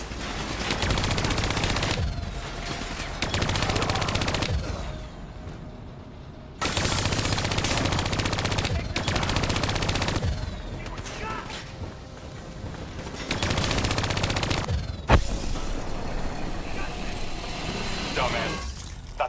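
Sustained automatic gunfire and battle noise from Call of Duty: Black Ops 3 fill the scene in long loud stretches broken by brief lulls, with a sharp crack near the end and a voice speaking over the action.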